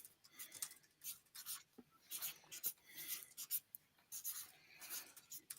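Quiet, close pen-on-paper writing, with short scratchy strokes and taps in an irregular rhythm as notes are jotted down, with no talking.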